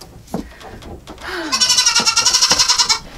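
A goat being milked bleats loudly and close by in a long wavering cry, after some brief rustling and a short low call.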